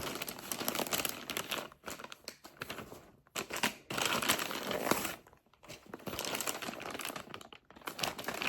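Plastic wrapping around a Louis Vuitton Pochette Metis bag crinkles and rustles in bursts close up, with brief pauses between handlings and no speech.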